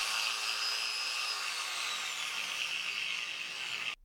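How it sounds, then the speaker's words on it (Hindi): An electric drill with a plastic dust-collector cup attached runs steadily in a home setting, a continuous high-pitched whine with a grinding edge, fairly close, stopping abruptly at the end, with no talking. "ड्रिल बिट को ड्रिलिंग मशीन के साथ अटैच करने के बाद आपको उसे इस तरह से पकड़ना है और मशीन ऑन करना है"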